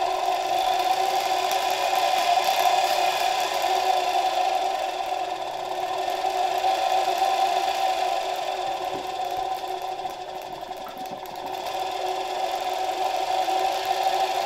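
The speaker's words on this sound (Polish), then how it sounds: "nasz silnik działa na dużo zmniejszonym napięciu" Faulty 1964 SK-5a-1 vacuum cleaner motor from an Alfa K2, heavily sparking while running at much reduced voltage, gives a steady close whirring hum with a buzzing tone that holds throughout without a break.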